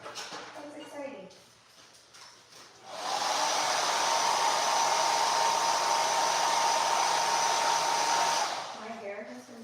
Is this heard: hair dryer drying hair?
yes